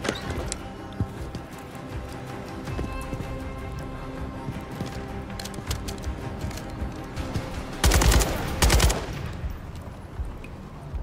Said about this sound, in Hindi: भाई ये किधर से आया फायर?